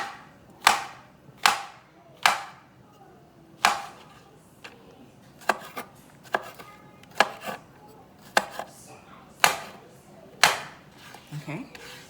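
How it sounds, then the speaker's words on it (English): Mushroom caps are sliced with a knife on a cutting board for a vegan alfredo, a run of sharp, close chops, spaced at first and then quicker and lighter, with no speech. "Now I'm gonna go ahead and start slicing up my mushrooms."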